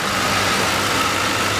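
A 2005 Ford Crown Victoria Police Interceptor engine idles steadily and quietly, a smooth, even hum held close and alone with no variation over the short stretch.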